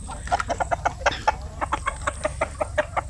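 Native Zampen chickens on a chicken farm cluck in a steady, rapid series of short, close calls, with no talking over them.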